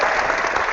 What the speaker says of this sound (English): We should have a clap for Sydney.